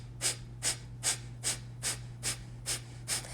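Rapid rhythmic yoga breath-of-fire exhalations forced through the nose, eight sharp even puffs about every half second, close and alone over a low steady hum.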